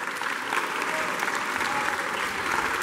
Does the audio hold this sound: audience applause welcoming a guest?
yes